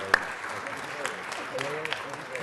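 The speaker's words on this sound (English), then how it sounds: "Let's give her a big round of applause." People at a city council meeting clap for an honoree, a soft, fairly distant patter of applause mixed with murmuring voices and talk.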